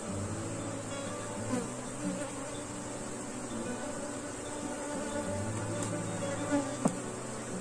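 A dense swarm of bees hums steadily around a wooden swarm-catching hive box, a close, continuous drone with individual insects buzzing past now and then.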